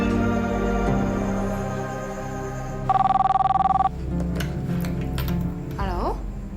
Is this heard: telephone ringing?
yes